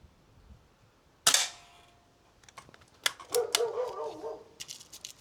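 An S400 air rifle fires at a paddle target: one sharp crack, followed by a short metallic clatter and rattle as the target reacts, then some quieter clicks and shuffling nearby.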